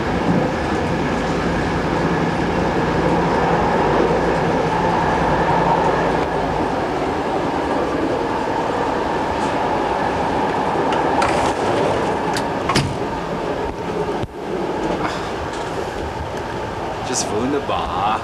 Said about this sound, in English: Now you know what it feels like to ride a train